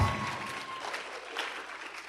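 Audience applause at a live Atheist Community of Austin show, a short burst of clapping and crowd noise at moderate loudness, lasting the whole moment.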